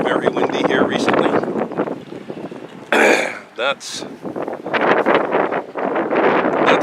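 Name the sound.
strong wind blowing outdoors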